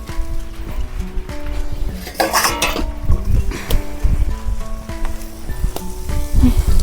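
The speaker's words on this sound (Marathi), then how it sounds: "तर आता झाकण ठेवते आणि पाच मिनटं वाप काढून घेते" A lid set onto a cooking pot of wild chai leaf greens, with a few light metallic clinks and taps amid a steady soft sizzle close by, no talking.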